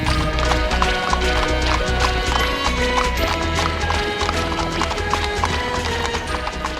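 Hooves of horses drawing a Georgian-era coach clip-clop in a steady, loud rhythm, with a brief whinny and a continuous background of music or ambience underneath.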